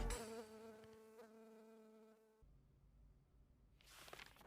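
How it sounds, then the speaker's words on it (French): A small fly buzzes close by in a steady, thin drone that fades partway through, then returns faintly toward the end. "Petite mouche là."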